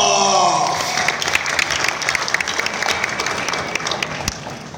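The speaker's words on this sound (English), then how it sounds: "please give a warm round of applause to Khairat, the Kazakh Akhmetov." A crowd at a ONE Championship fighter face-off in Manila applauds for a Kazakh flyweight, the clapping loud at first and tapering off while an announcer's voice trails into it at the start.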